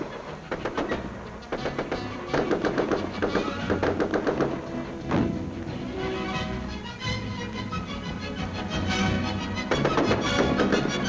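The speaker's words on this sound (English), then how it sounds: "a Bren gun fires bursts above them" Bren gun firing bursts over a recruits' assault course, with a rapid, steady stream of sharp reports that runs continuously and sits under a dense, noisy old film soundtrack.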